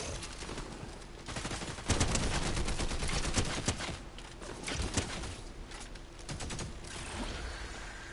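Fortnite gunfire crackles in repeated bursts and scattered shots over a busy game soundscape, fairly loud throughout with no voices.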